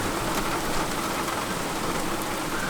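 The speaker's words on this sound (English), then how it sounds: "And there's the rain!" Heavy rain with very large drops pours down around an old camper van parked at a trailhead lot in Central America, a dense, loud and unbroken wash of patter with no voices.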